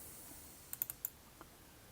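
A computer mouse clicks a few times in quick succession on icons, then once more after a short pause, with light, crisp clicks against a quiet room and no talking.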